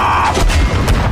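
A sniper rifle in a snowy action-movie gunfight fires as a single heavy, booming shot. A deep low rumble dominates the brief burst.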